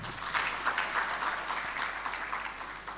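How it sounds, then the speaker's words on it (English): Crowd applause at a 2025 UEGCL research and innovation symposium, a steady patter of many people clapping at moderate distance, continuous and fairly even throughout with a low hum beneath. "So let's welcome everybody with a very big hand clap."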